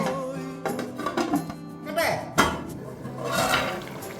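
A metal pot lid is set down over a pan of curry-leaf chicken curry, giving several close metallic clanks and scrapes of cookware, loud and irregular.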